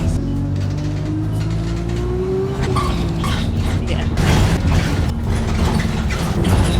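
A bus on the road to Porthmadog driving steadily, with a constant low engine drone and road rumble, occasional rattles and knocks from the cabin, and a brief tonal engine whine early on, loud and close throughout.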